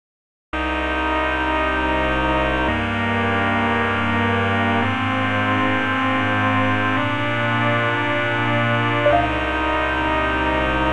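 A dense, buzzing FM synthesis drone with many bright overtones holds long sustained chords that shift every couple of seconds, loud and harmonically thick.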